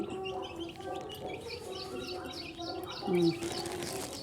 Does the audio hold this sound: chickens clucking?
yes